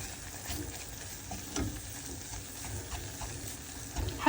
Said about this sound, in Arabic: شوفوا لازم يعني تتقلى مع الزيت